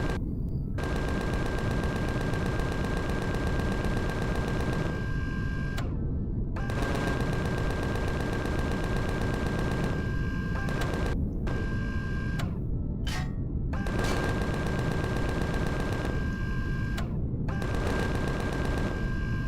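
Gunfire in the sci-fi survival game Empyrion Galactic Survival comes as long, dense automatic bursts with brief gaps, loud and continuous over a steady electronic drone.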